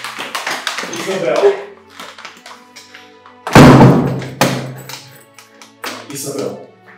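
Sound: knocking on a door

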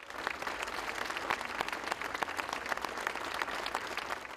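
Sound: healthcare workers applauding in protest of bombing

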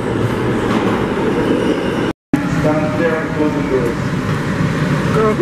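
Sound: subway train passing on the track

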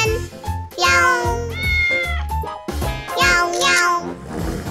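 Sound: baby kitten meowing

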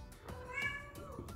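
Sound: cat meowing while making a mess

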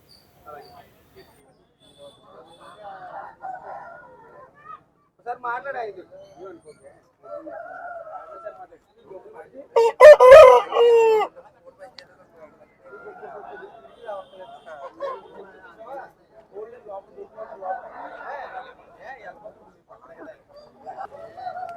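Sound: roosters crowing and hens clucking at country chicken market

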